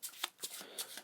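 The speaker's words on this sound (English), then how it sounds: "I also threw in a false shuffle." A deck of playing cards being riffled in a close false shuffle, giving several short crisp bursts of card flutter with brief pauses between them, no voices.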